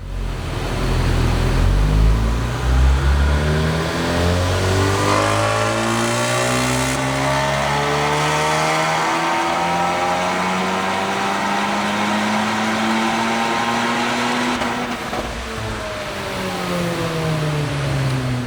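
VW Golf R with a Precision Stage 1 turbo kit revs hard on a dyno, its loud engine note climbing steadily in pitch through a long pull, dropping, then rising again near the end.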